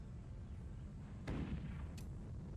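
Two sharp cannon-like bursts over a constant low rumble in the game Forts, the first a heavier boom followed by a shorter crack, like anti-aircraft guns firing.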